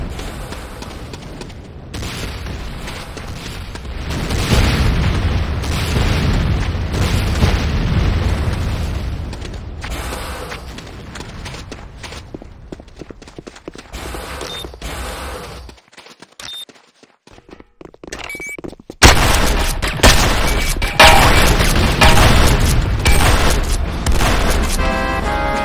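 A Tiberium Refinery in the Renegade C&C video game is destroyed amid loud, rolling explosions and rumbling booms, broken by a brief quiet gap before another burst of blasts and mechanical crashing.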